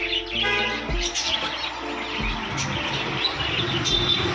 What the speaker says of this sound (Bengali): পাখির কিচিরমিচিরগুলো কিন্তু শুনতে ভালোই লাগে।